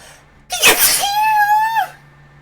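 A single loud, close sneeze with a sharp onset and a drawn-out tonal tail, alone with no talk, during a tabletop role-playing game session.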